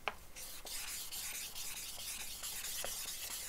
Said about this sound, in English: you simply run the stone up and down the whetstone, and it pulls off excess material